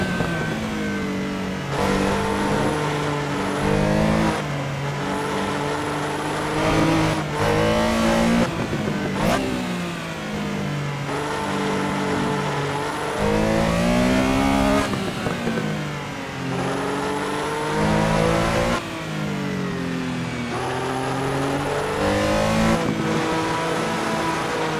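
Race car engine in a sim racing video game, revving hard and shifting through gears in repeated climbing waves of loud, close, continuous engine tone with no speech.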